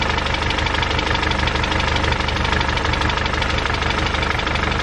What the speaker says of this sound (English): Just like a not so great tapping sound.